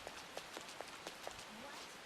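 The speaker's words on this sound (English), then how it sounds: "This rain came out of nowhere." Steady rainfall in the Persona 5 Royal video game, a soft continuous hiss with faint rhythmic taps, quiet and even, with no one talking.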